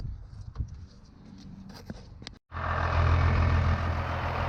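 A 12 valve Cummins diesel engine in a second-generation Dodge truck settling into a steady idle after a throttle adjustment, a low continuous rumble that starts abruptly after a brief cut, near and loud.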